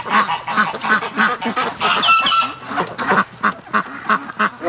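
Muscovy ducks give soft, rhythmic breathy honks and hisses in quick repeated bursts, close by and steady throughout.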